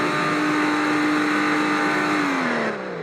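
A Toyota Supra engine in the Roblox video game revs with a loud, sustained, steady drone held close, then sags in pitch as the revs fall at the end.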